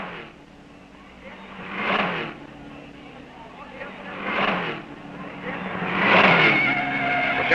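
Porsche race cars roaring past during the 1954 Carrera Panamericana road race in Mexico, three loud engine swells rising and fading as cars pass, heard under steady talk.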